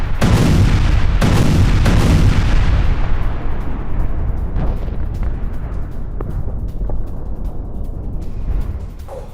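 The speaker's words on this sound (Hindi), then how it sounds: "ये देखिए एक के बाद एक कई ड्रोन यहां पर आके हिट करते हैं।" Drone strikes hitting an infantry command center in wartime, a series of heavy booming explosions in quick succession at the start, then rumbling decay and scattered distant blasts over a lingering low roar.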